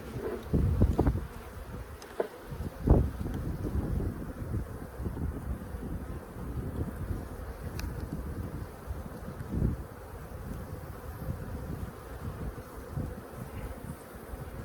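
Honey bees buzzing during a hive inspection at Soybean Bay Farm, a continuous droning hum up close with some wind rumble and occasional handling knocks, with no speech.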